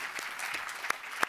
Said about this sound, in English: Please give a round of applause to all the speakers.